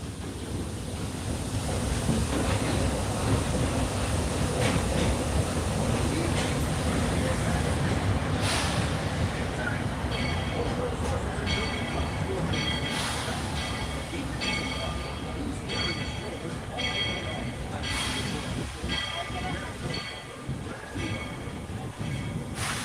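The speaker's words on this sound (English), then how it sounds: "As we approach the station, please remember to stay seated until the train comes to a permanently stop" The Walt Disney World Railroad train at Magic Kingdom rolls steadily toward Frontierland station with a continuous low rumble and hiss, while metallic clanks and rattles of the cars come and go throughout.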